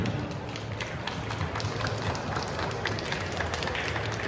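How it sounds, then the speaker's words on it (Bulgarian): Applause for a Comic Con tournament finalist on stage, steady dense clapping from a crowd throughout, moderately loud and continuous without a break. "Аплодисменти!"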